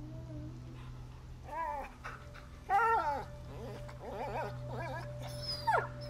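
A dog whimpers and yips in a high, wavering, repeated pattern of short cries in the video game A Plague Tale: Innocence, clear over a steady low hum with faint voices in the background.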